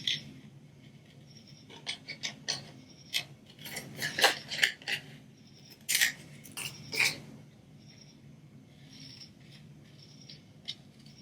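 Scissors cut through a Christmas card in a series of close, crisp snips and paper rustles, irregular bursts clustered in the middle, quiet and without talk.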